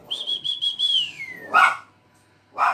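A small dog gives a quick run of sharp, high yaps close to the microphone, then a loud bark after a short pause and another at the end.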